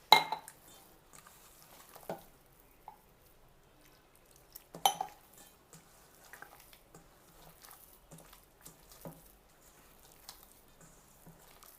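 Mysore bajji batter being mixed by hand in a bowl, with soft wet squishing and scattered light clinks against the bowl, close and quiet with irregular bursts and no talking.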